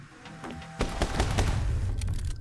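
Rapid rifle fire in the action game My Friend Pedro, a dense burst of loud overlapping shots that starts after a brief lead-in and continues steadily to the end.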